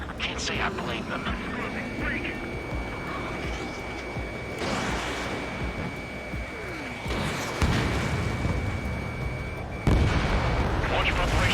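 Missiles launching and explosions from fighter-jet combat in Ace Combat 7: Skies Unknown, a dense, continuous roar of blasts and engine noise that grows louder around the midpoint and again toward the end, with radio chatter underneath.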